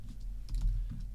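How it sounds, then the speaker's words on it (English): Keys on a computer keyboard clatter in quick, uneven bursts during a Unity game-development session, close and fairly quiet with no talking. "I just copied it and then I started typing."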